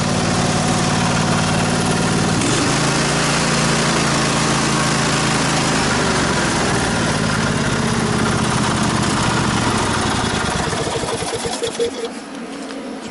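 Lawn mower engine running steadily after its carburetor was cleaned and reassembled, a loud continuous idle-like drone with a brief shift near the start, tapering slightly at the end.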